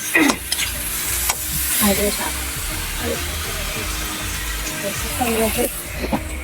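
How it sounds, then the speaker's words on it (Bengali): Food fries in a pan at home with a steady sizzle and hiss, punctuated by clattering utensil knocks and scrapes, while a voice talks intermittently nearby. "আবার ভাজা বসিয়েছি ভাজা হচ্ছে"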